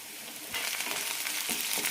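Chopped onion, ginger-garlic paste and tomato sautéing in a hot pan, a soft crackling sizzle that grows livelier after a moment, with a few scraping stirs.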